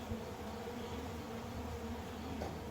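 Bees pouring out through an opened apiary basement door, a steady, close buzzing hum that stays constant without breaks.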